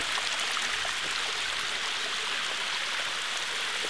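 A small waterfall in a stream rushes and splashes nearby, a steady broad hiss of flowing water with no voices.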